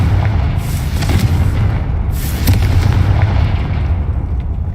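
Confringo blasting spell explosions in a video game: loud, booming blasts with crackling bursts recurring throughout, layered over a continuous heavy rumble with no pauses.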